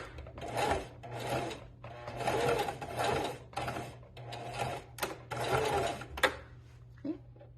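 A sewing machine stitching a fabric bunny from a beginner pattern, close and fairly loud in repeated bursts of rapid whirring with short pauses between runs, ending in a few faint clicks.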